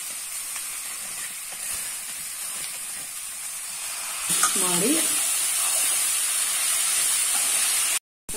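Hot tempering of green chillies, curry leaves and grated coconut is poured into cooked horse gram sprouts and drumstick leaves, bursting into a loud, close sizzle midway that keeps hissing steadily after a quiet kitchen background, with a brief spoken word.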